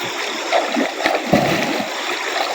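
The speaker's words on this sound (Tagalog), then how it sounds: "masarap po maliligo dito at malinaw at tubig" Clear stream water splashing and gurgling as someone bathes in it, close and moderately loud with a few sharper splashes in the middle, set outdoors in the rural Philippines.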